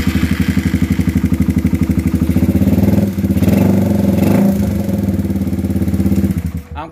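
A Raider 150 motorcycle engine idles up close, steady and loud, with a rapid, even mechanical pulse and a fast ticking clatter from the valve train, a tapping that shows up when the engine is warm.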